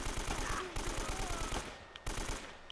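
Rapid automatic AK rifle fire from Uncharted: Drake's Fortune, a fast rattling stream of shots that pauses briefly and resumes, loud and close.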